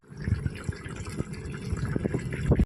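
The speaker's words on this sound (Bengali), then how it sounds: "সুন্দর করে থালায় ঢেলে নাও।" Cooked khero posto, a poppy seed paste ground with green chillies, poured onto a plate as a thick, wet, gloopy slosh with soft splatting plops, close and continuous.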